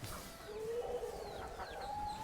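Chickens cluck and chirp faintly in an outdoor coop, soft scattered calls over a steady background hum.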